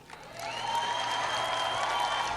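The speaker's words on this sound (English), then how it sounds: "Old people are clapping." Older audience clapping at a political speech, a sustained wash of applause that swells in and holds steady, fairly distant and crowd-wide.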